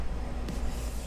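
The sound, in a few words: motel room air conditioner running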